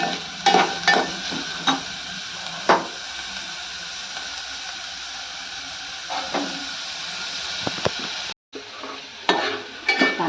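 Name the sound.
onion being fried and stirred in a pan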